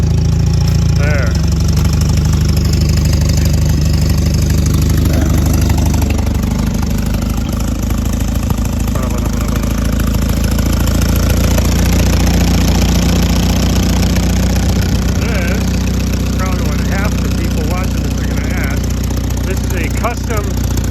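A small Allis Chalmers WD45 tractor engine idles steadily with a low, rumbling putter throughout, some voices and faint clatter in the background.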